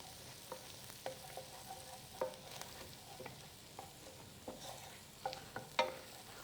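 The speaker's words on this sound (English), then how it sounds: "You want to cook that until you can start to smell the ginger cooking." Ginger cooks in oil in a pan, a quiet low sizzle broken by irregular scrapes and clinks of a spoon stirring, with a few sharper knocks near the end and no talk.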